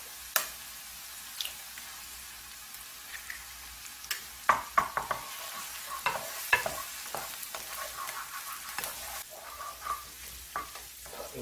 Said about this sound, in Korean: 어느 정도 볶아졌을 때 여기 이 위에 계란을 넣어서 볶습니다.